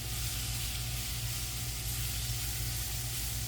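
Beef searing in a cast iron cauldron set over hot coals, giving a dense, continuous hiss of sizzling meat that stays steady and close throughout, with no talk.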